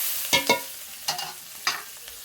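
Half-fried onions in leftover fish-frying oil, a steady low sizzle punctuated by several sharp spatula scrapes and stirs in quick bursts, close up, with no talking.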